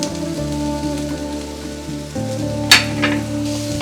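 Spring onion and capsicum sautéing in a pan for chicken fried rice: a steady, close sizzle and fry that runs throughout, with a brief sharper clatter of stirring near the middle and no speech.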